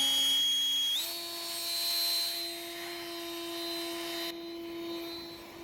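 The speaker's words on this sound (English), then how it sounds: "It's just it's a high power fan right there." A high-power fan roars as it blows dirt out, its steady whine jumping up in pitch after a second, then holding a loud, sustained whir that dips slightly near the end.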